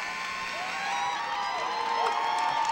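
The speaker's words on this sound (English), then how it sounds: "And it is getting loud in here." A girls' high school varsity basketball crowd in a gym, Haslett fans among them, cheering and whooping steadily and building louder over the closing seconds of a game, a continuous wash of voices.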